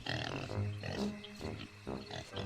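A pig grunts and snorts in a rapid run of close, loud, throaty bursts with only short gaps between them, heard alone without any talk.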